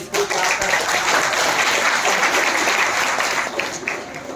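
Sustained applause from an audience during a Hindi paper-flower-making demonstration, a dense steady wash of many hands clapping close by, fading slightly near the end.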